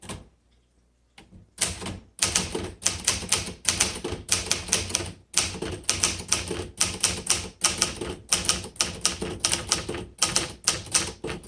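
Rapid, steady clacking of a 1957 Remington Quiet-Riter manual typewriter's keys, close and fairly loud, in quick bursts with brief pauses after a quiet start.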